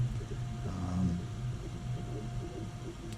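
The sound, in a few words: fan of a filament dryer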